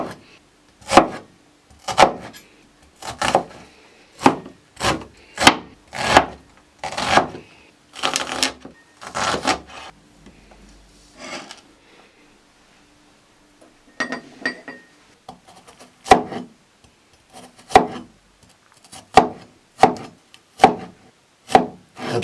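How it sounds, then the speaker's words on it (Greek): An onion being finely chopped with a knife on a board, crisp rhythmic cuts about one per second, close and clear, pausing midway before the steady chopping resumes. "Θα ψιλοκόψω το κρεμμύδι."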